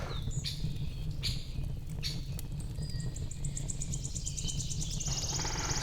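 Spring birds chirp and trill around a morning camp in Michigan, with repeated bright calls and a steady insect-like buzz over a constant low background rumble, moderately near throughout.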